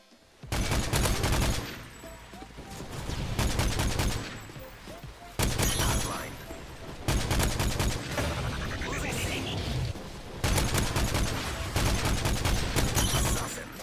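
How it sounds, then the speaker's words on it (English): A loud, metallic Call of Duty rifle fires in several dense bursts of rapid shots with short gaps between them, close and punchy, with some echo trailing off after each burst. "It was like the classic M21 or EBR firing sounds from the first two Modern Warfare games, but louder"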